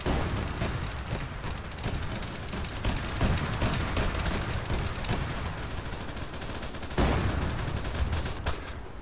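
Arma 3 combat with dense, continuous gunfire and heavy booming shots from a fight involving a tank, loud and unbroken throughout.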